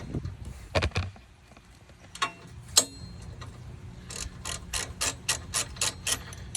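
Bolts are unscrewed by hand with a ratchet during a bumperette install on a 2006 Jeep TJ: a few sharp metallic clanks, then a quick rhythmic run of ratchet clicks, close and moderately loud.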